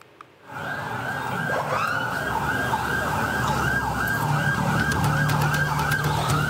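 A convoy of ambulances carrying crash victims from a hospital in Probolinggo to a hospital in Jember drives past with sirens wailing, loud and continuous, several overlapping wails rising and falling over road traffic.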